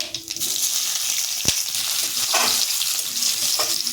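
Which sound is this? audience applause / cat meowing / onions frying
onions frying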